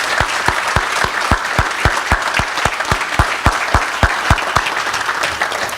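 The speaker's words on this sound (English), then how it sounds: "round of applause" Audience applause at an event, with sharp, evenly spaced claps close by ringing out in a steady rhythm over softer clapping from the crowd.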